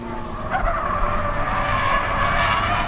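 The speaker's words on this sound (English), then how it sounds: "I heard the tires screeching and I thought something's happening up the front" Race car tires screech and skid during a motor race, a sustained high squeal lasting a few seconds at moderate distance over a low engine and track rumble.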